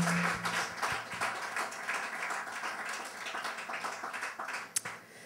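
An audience applauds at a festival talk, a faint, steady patter of many hands clapping in a large room, fading toward the end.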